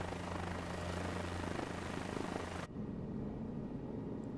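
Helicopter rotor and engine drone in Microsoft Flight Simulator 2024, a steady, close, continuous hum with low tonal whine that cuts abruptly to a quieter cabin rumble partway through; no talking.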